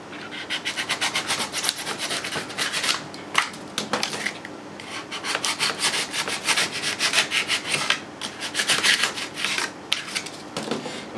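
A blade scrapes repeatedly across foam on a Renault Clio 2 rear bumper, giving close, loud, rhythmic rasping strokes in quick bursts with short pauses between them.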